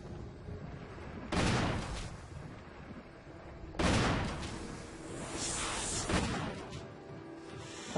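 Gunfire in the Resident Evil HD remake during a giant snake boss fight, two loud blasts each trailing into a long rumbling decay, separated by quieter ambient game noise, with no talking.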